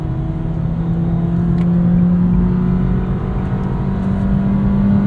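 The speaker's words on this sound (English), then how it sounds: "It's an exercise in patience getting up to speed in this Nissan Versa." A 2023 Nissan Versa SR engine pulls slowly up to speed, a steady loud interior drone with a low hum that gradually rises in pitch over several seconds, continuous with no pauses.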